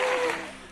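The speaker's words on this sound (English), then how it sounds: "Let's go to clapping." A short burst of applause sound effect from a sound effect machine, clapping that fades quickly, fairly close and moderately loud.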